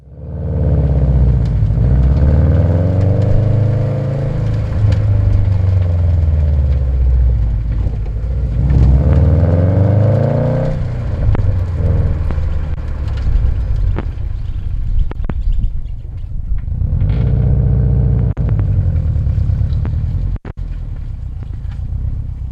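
A car drives back toward the camera, a steady loud engine rumble and road roar with rising and falling whooshes as it approaches, filling the whole stretch with brief dips near the end.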